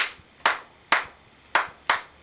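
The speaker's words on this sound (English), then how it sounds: "please would you clap 3-2 son clave for me?" Hands clapping the 3-2 son clave rhythm of Cuban music: four crisp, loud single claps unevenly spaced in a pattern, sharp attacks with quick decay, alone with no talk.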